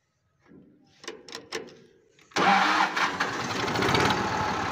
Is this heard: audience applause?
no